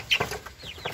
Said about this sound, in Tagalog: Rhode Island Red.